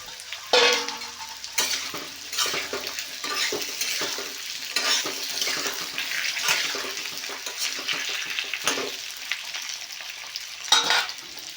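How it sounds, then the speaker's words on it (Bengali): Potatoes fry in hot oil in a kadai with bay leaf, black cumin and dried chilli, a steady dense sizzle broken by repeated scraping stirs, close and fairly loud, with no voices. "আগে থেকে কেটে রাখা আলুগুলোকে দিয়ে ভালো করে ভাজতে হবে"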